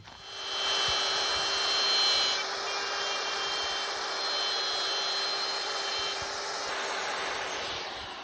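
A router cuts into oak cross arms for a step ladder, a continuous loud whining, rasping buzz of the bit chewing wood, swelling in the first seconds and holding steady with slight variations, no talk.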